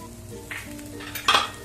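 Whole fennel, carom, fenugreek and cumin seeds frying in hot oil for chole masala, a soft steady sizzle with a couple of brief metallic scrapes from stirring, the last one louder.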